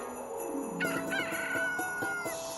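A rooster crows loudly and close, its drawn-out call rising and wavering over steady background hum, with a few clucking notes mixed in.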